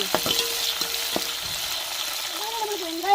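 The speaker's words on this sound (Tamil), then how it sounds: "நம்ம வெட்டி வச்ச வெங்காயத்தையும் சேர்த்துக்கிறோம் நல்லா வெங்காயம்லாம் வதங்கி வரட்டும்" Chopped onions sauté in a pan for a beef gravy, giving a steady, moderately loud frying hiss with a few light clicks of a utensil, and a faint tonal whine near the end.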